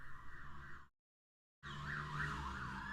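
A siren sound effect plays twice in a stream chat, two loud wailing bursts separated by a brief gap of silence, with no talking over it.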